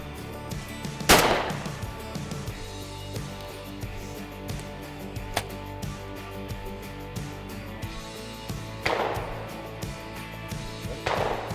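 Shotgun shots at a friendly sporting clays competition at a gun club in Missouri: a loud sharp blast near the start, a fainter crack mid-clip, then two more reports near the end, with no talk.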